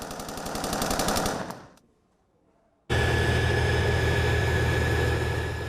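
Rapid machine gun fire from a Rex MK2 combat robot rattles in a dense burst, drops into near-silence, then a second sustained, loud stream of fire resumes and continues steadily.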